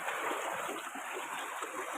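Water pouring straight from an opened valve into a field channel, a constant hissing rush with faint splashing underneath, near and steady, without speech.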